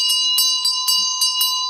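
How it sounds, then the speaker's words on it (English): A Vajrasattva ritual bell rung steadily in a Buddhist practice session, its bright metallic tone pulsing in about seven even strikes over a sustained ring, close and clear with no talking. "we're ringing the bell"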